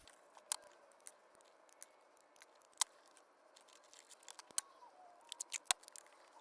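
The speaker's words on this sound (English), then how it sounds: "so I'm also going to use a zip tie." A plastic zip tie ratcheting tight around a spud gun barrel made for a french fry cannon: a series of sharp, quiet clicks and ticks at irregular intervals, with a few louder snaps, close up in a quiet room.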